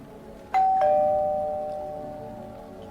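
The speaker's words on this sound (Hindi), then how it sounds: "दरवाजे की घंटी फिर से बजी।" A doorbell rings once inside an apartment building, two clear chimed tones struck in quick succession and left to ring out and fade slowly against a quiet background.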